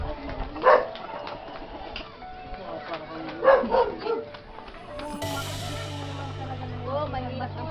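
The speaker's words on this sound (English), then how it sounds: "Oh my God, dog." A dog barks a few times outdoors in the Philippines, sharp yips in two brief bursts amid chatter from nearby people and chirping birds, followed by a steady background hum.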